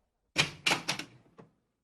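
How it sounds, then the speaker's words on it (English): A door is handled as a story sound effect, a quick close series of four or five knocks and thuds with clear wooden clatter, moderately loud with silence around it. "When I arrived, the same servant opened the door."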